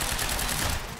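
Gunfire in the Quantum Break shooter game, a dense continuous burst of shots lasting about a second, loud and up front with no talk.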